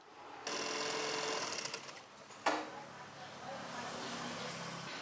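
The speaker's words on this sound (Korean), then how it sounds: "엄마는 재봉 일을 계속하고 있습니다" A sewing machine stitching steadily in a home workroom, a dense mechanical whir running for about two seconds, then a sharp clack and quieter continued hum in the background.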